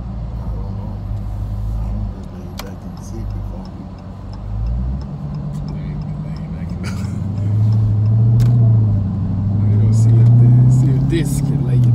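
A 700+ HP Dodge Hellcat accelerates hard from inside the cabin, its engine rising from a low rumble into a loud, climbing roar toward the end, with people talking over it and light ticking sounds.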